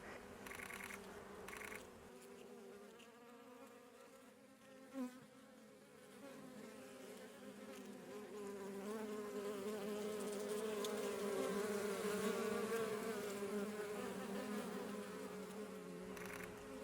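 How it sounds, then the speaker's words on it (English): Bees fly through outdoors, their buzzing a faint, steady drone that grows louder and nearer midway before easing slightly. "and then bees flying through."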